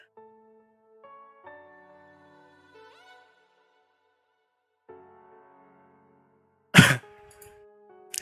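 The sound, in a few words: cough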